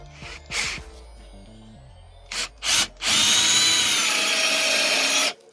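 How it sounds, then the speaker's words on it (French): A Bosch Professional GSR 12V-15 cordless drill-driver bores lengthwise through a workpiece, a few short motor bursts followed by one sustained high whine of drilling lasting a couple of seconds before stopping, loud and close. "Donc là je vais les percer sur sa longueur."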